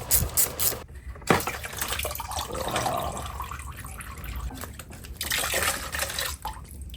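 Coolant trickles and drips from the disconnected coolant lines of a salvaged, crashed Suzuki GSX-R 750 motorcycle being rebuilt. The liquid runs in an uneven stream with scattered drips and splashes throughout, close by and at moderate level, with no talking.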